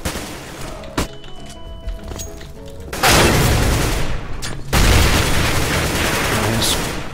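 Gunfire in the video game CS GO: a sharp shot, then loud sustained bursts of rapid fire that dominate the mix, with a brief pause between the two long volleys.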